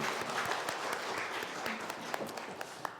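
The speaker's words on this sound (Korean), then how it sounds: "하나님께 영광의 박수 올려드립니다." A church congregation at a Sunday worship service claps in praise, a moderately loud wash of applause with a few sharper individual claps standing out as it thins toward the end, with no talking over it.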